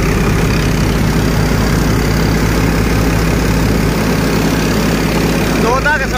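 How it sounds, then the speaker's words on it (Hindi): A tractor engine driving a Mukandgarh threshing machine runs loud and close with a steady low drone and rhythmic thumping throughout, and brief higher tones appear near the end. "ट्रैक्टर की रेस दिखा दूं भाई एक बार।"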